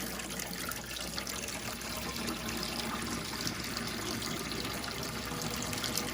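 Water draining from washed husky fur held in a kitchen sink, a continuous close trickle and gurgle at steady volume with no talk.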